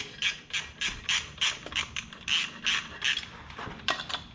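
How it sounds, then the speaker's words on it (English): A ratchet wrench clicking in a steady back-and-forth rhythm, tightening bolts on a Harley-Davidson air intake, close and loud, about a dozen quick strokes with brief pauses between. "tighten those bad babies up"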